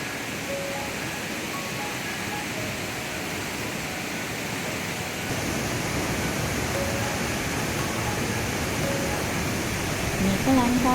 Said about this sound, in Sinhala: මේක ලංකාවේ තියෙන ලස්සනම දිය ඇල්ලක්